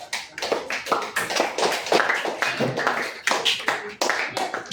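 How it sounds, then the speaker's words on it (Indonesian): Classmates clap for a student group in a classroom, a close, uneven run of individual hand claps with audible gaps and bursts, fairly loud and without talk. "Tepuk tangan untuk kelompok."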